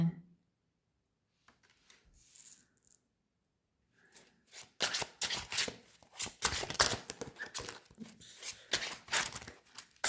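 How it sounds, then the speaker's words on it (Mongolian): Tarot cards slid and drawn from a deck in a rapid flurry of crisp papery flicks and snaps, close and clear after a few quiet seconds with faint rustling. "картнаасаа сонголтын картуудаа гаргаж ирцгээе"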